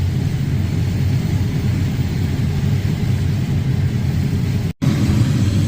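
A combine harvester works through a corn harvest, shredding stalks beneath its head, with a steady, loud, close mechanical drone and rumble that holds even until a brief dropout near the end.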